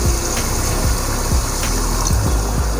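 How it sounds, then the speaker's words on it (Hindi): About a glass of water is poured into a pot of beef cooking for Peshawari namkeen gosht, a loud, close rush of liquid with bubbling and sizzling beneath, no talking. "तो मैं इसमें तकरीबन 1 गिलास पानी डाल रहा हूँ"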